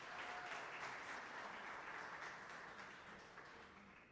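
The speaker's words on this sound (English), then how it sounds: "A round of applause." A conference audience applauds a speaker taking the stage, steady broadband clapping held at an even level for several seconds before easing slightly toward the end, with no voices over it.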